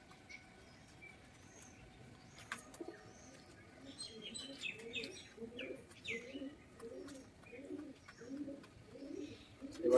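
Pigeons, including large long-bodied Jack Madi birds, coo in a series of soft repeated calls, with faint chirps and tweets scattered above them, close by and fairly quiet.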